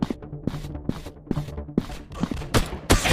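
Gunfire in a first-person shooter video game, a series of sharp shots spaced roughly every half second, the last few louder and harsher, with no talking.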